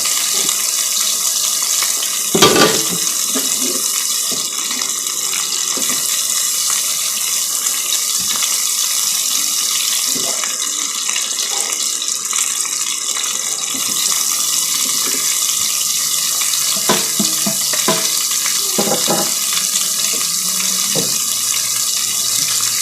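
Water runs steadily from a tap throughout, with occasional clinks and knocks of dishes being handled in a sink.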